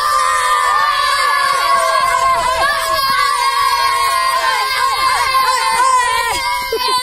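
Children at a playground ground cheer and shout together after winning a match, a loud, continuous crowd of young voices with whoops, with an adult voice calling out over them.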